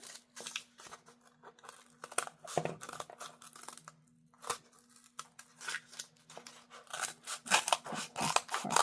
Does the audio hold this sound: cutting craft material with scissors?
yes